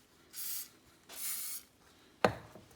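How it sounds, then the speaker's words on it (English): Two short hissing bursts from a vegetable oil spray can, each about a third of a second, misting grease into a bread tin, followed by a sharp knock of the tin being handled. "I'm just going to spray a little bit of vegetable oil,"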